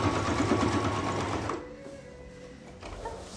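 Sewing machine stitching fabric for a tart carrier bag, running steadily and loudly for about a second and a half, then dropping to quiet pauses and a few faint stitches as the needle is set and the fabric pivoted.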